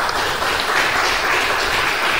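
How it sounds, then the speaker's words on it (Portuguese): Congregation clapping in a church service, a loud, continuous wash of hands with no gaps, close and steady throughout. "as palmas exaltam o Rei Jesus"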